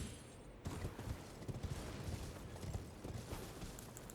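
Horse hooves clip-clop in the video game Elden Ring, a faint, quick rhythmic patter of steps that starts after a brief pause and carries on without speech.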